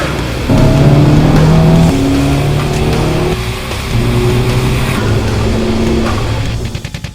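A Nissan S14 Silvia's engine roars loudly and close up, revving through rising pitches and shifting gears across several pulls before easing off at the end.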